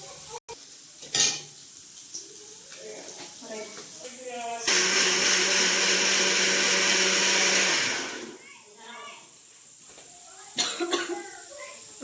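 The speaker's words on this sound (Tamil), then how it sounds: "எல்லாம் இந்த மாதிரி ஃபைன் பேஸ்ட்டாக அரைச்சிக்கணும்" A mixer grinder whirs loudly for about three seconds while grinding ingredients into a fine paste for paneer masala, with quieter voices, a cough and kitchen clatter before and after.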